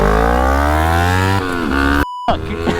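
An electric motorcycle launching in a race, giving a loud, close whine that climbs steadily in pitch, then cuts out abruptly before a brief rough return.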